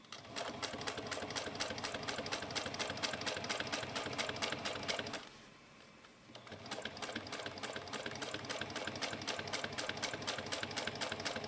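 Sewing machine top stitching a fabric wristlet clutch, a fast, even mechanical chatter close by, pausing briefly midway before resuming at the same rapid pace.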